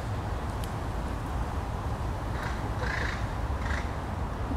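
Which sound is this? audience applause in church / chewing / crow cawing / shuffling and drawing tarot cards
crow cawing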